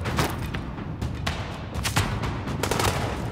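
Gunfire rattles in The Division, a video game, as a string of sharp shots and short bursts keeps going over a rumbling backdrop, some shots close and loud, others further off.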